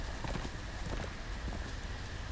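Horse hooves in the video game Game of Thrones clip-clop in a quick, steady rhythm close by, over a constant background hiss, with no talking.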